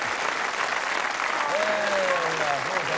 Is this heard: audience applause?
yes